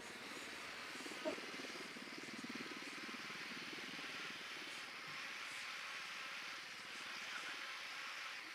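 A drone flies in the video game Ghost Recon, giving off a steady whirring, buzzing hum that stays fairly faint and constant, with no speech over it.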